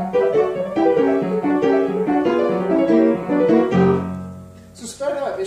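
A piano plays a legato passage from Chopin's Scherzo No. 1, with a steady run of close, clear notes that ends on a sustained chord, followed by a short bit of speech.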